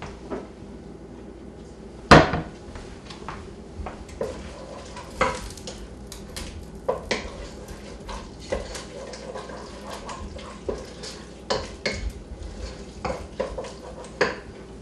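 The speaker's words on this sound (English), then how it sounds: "I'll give that just another minute to cook that flour down." Flour cooking in a pan as a utensil stirs it, giving a steady low sizzle broken by repeated scraping and light clinks of metal against the pan, with one sharper knock near the start.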